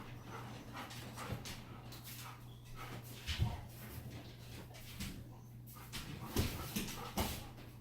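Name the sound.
dog whimpering during remote collar training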